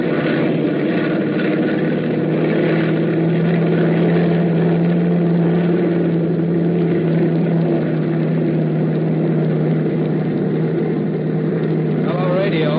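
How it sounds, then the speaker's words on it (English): A bomber plane's constant engine drone hums with a steady low tone as it takes off, loud and close, without much change in pitch or level, in a 1942 radio drama. "It all starts to add up when the plane takes off."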